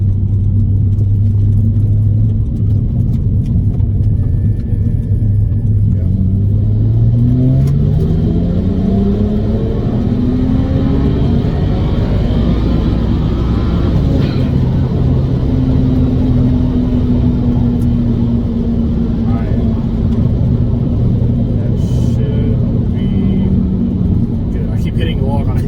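A car accelerates at full throttle on a warm day across a flat stretch, engine rumbling loud and close with a rising pitch as it revs and shifts, a voice speaking over the roar.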